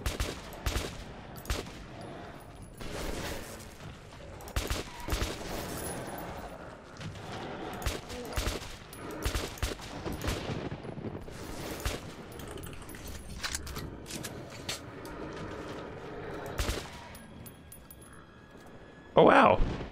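Sporadic gunshots with mechanical clicks and clatter in Metro 2033 Redux set in post-apocalyptic Russia, irregular bursts spread over the stretch amid a busy game soundscape, ending on a loud blast.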